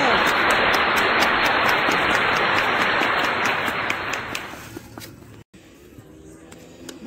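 Applause at an awards ceremony for a javelin throw event, a loud, dense burst of clapping that holds steady and then fades away after about four seconds, leaving quieter room noise and a few scattered sounds.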